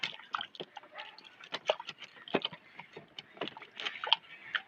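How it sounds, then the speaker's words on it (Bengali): Fresh raw mangoes are washed by hand in water, with irregular close splashes and sloshing dribbles in quick uneven bursts. "এবার আমগুলো জলে ধুয়ে নেবো।"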